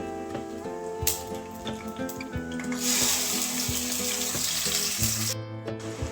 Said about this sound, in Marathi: हे परतल्याच्या नंतर याच्यामध्ये आपण जे वाटण केलं होतं बारीक ते याच्यामध्ये टाकून घ्यायचं